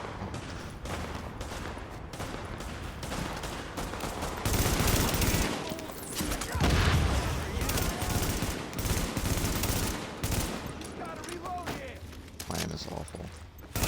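Heavy, sustained gunfire in The Division video game, with overlapping automatic bursts and loud booming volleys that swell and ease, under intermittent talk.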